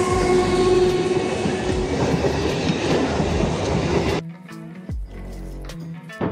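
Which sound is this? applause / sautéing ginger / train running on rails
train running on rails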